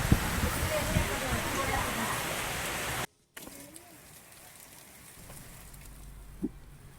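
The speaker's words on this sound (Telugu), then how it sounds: "అనకాపల్లి జిల్లాలో ఈదురుగాలులు వడగండ్ల వాన బీభత్సం సృష్టించింది." Gusty winds and hail-laden rain lash Anakapalle as a dense, loud rushing downpour, then a short gap gives way to quieter, more distant rain with a few isolated knocks.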